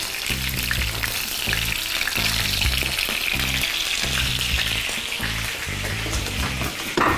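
Meat pieces sizzle and fry in a hot pan, browned on one side while the other side cooks, with a steady crackling hiss and rhythmic low thumps of stirring throughout, close and fairly loud.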